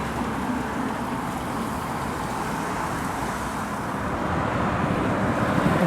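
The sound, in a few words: Volvo FH truck passing at a truck stop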